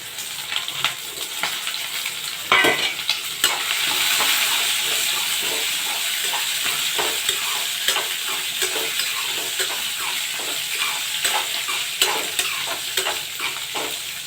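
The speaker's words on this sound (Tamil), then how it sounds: "இதில் வெட்டி கட் பண்ண வெண்டைக்காயை போட்டுடலாம்." Chopped okra fries with lentils and dried red chillies in a pan, giving a steady loud sizzle and hiss broken by scraping stirs, close up with no speech.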